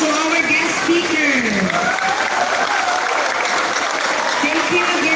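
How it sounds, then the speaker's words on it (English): Steady applause from a sizable audience welcoming a guest speaker at a high school graduation ceremony, continuous clapping with a faint voice murmuring underneath. "welcome a warm round of applause to our guest speaker"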